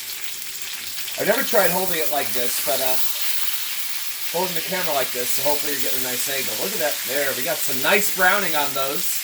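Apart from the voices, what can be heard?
chicken thighs sizzling in a cast iron skillet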